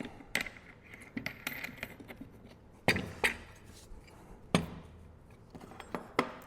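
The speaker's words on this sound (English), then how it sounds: "Go ahead and put our disc on." A disc being fitted onto a Milwaukee M18 Fuel 3672 angle grinder, heard as scattered close clicks, taps and metallic knocks at an irregular pace in a quiet room.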